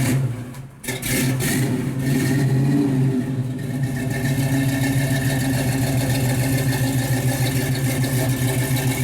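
A 1965 Chevrolet Chevelle Malibu SS with ceramic-coated headers, a mild cam and 2.5-inch dual Flowmaster exhausts runs close by. It gives one quick rev near the start, then settles into a loud, steady, rumbling idle.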